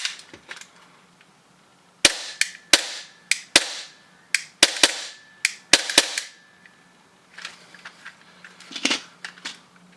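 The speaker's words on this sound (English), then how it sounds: "Let me dry fire for you guys." Glock pistol dry firing: a rapid series of sharp, loud mechanical clicks and snaps in irregular bursts, each short and crisp, with no voices.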